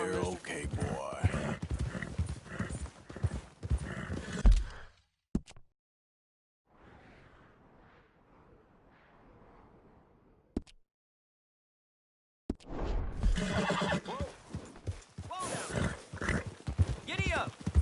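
A horse in Red Dead Redemption 2 whinnies and its hooves clip-clop steadily, heard under game dialogue and music, with a quieter gap partway through.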